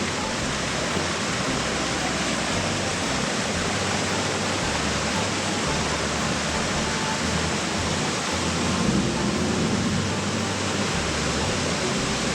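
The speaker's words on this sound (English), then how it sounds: "That's a pretty waterfall right there." A waterfall pours steadily along Castaway Creek, the lazy river at Disney World's Typhoon Lagoon, as a dense, even hiss of falling water close by that holds level throughout.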